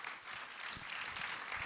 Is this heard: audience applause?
yes